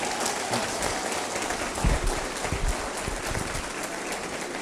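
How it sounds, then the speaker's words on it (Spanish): Audience applause at a sermon: a broad, even wash of clapping hands that holds steady throughout, with a slight swell partway through and no voices above it. "Escucha este aplauso."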